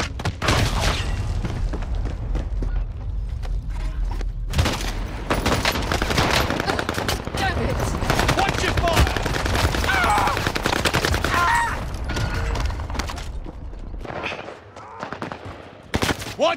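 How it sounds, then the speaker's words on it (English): Heavy gunfire in the Call of Duty Vanguard/Warzone video game: dense machine-gun bursts and booming explosions keep up a near-continuous loud barrage, broken by brief shouted voices. "I'm under fire!"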